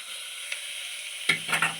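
Onion, peanuts and tomato fry in a pan with a brief, steady, close hiss, ending in a quick clatter of stirring.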